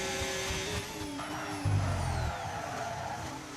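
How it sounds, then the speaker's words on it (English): Open-wheel F1 cars race past in a video game at the China Grand Prix, engine tones sweeping down as one car burns its rear tires through a corner, with a brief low tire squeal near the middle and steady engine drone throughout. "he's burning those rear tires heavily coming through there"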